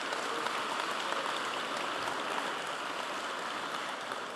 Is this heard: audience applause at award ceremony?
yes